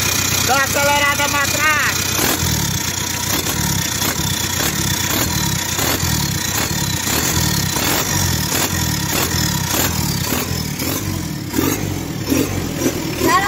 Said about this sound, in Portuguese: Dá uma acelerada